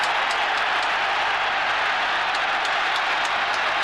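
A football stadium crowd applauding a hat-trick goal by Gary Rowell for Sunderland, a dense, steady wash of clapping and cheering heard at a distance throughout.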